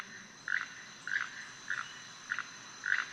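Keel-billed toucan call played back: five evenly spaced, short croaking notes, frog-like and mid-pitched, standing clear over a faint hissing background with no talk.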